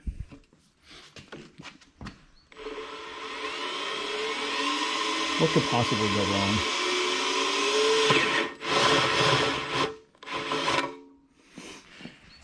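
A big hole saw grinding steadily through a metal manifold, with a long continuous rasping cut that bogs and catches midway, then stops and restarts in short bursts; someone speaks briefly at the start.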